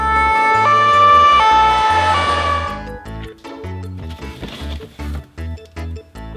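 A toy ambulance siren wails in a loud two-tone electronic pattern, then cuts off into a series of short clicking and clattering bursts.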